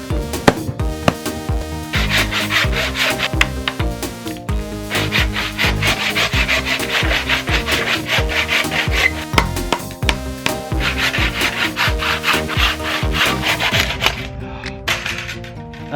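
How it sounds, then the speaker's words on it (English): A wooden replica of Link's Traveler's Shield is sanded by hand with loud, close, continuous rasping strokes that rub steadily back and forth with no talking. "Sand it."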